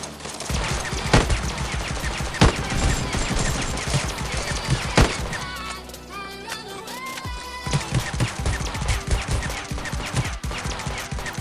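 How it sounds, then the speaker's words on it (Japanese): Rapid bursts of gunfire in the battle royale mobile game Knives Out, loud sharp shots in dense volleys, a brief pause with engine hum and clatter midway, then heavy firing resumes. "銃声も出てる、まだいるね、端に、"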